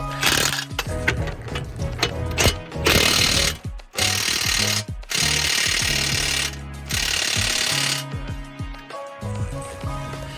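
Impact gun bursts while tightening BC Racing coilover bolts on a Cadillac CTS-V1, loud rattling hammering in several separate runs of a second or two each, with gaps of clanking and shop noise between them.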